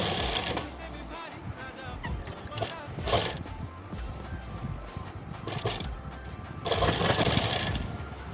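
Sewing machine stitching pleats into a salwar, with bursts of mechanical whirring rising and falling over a steady low hum, loudest near the end.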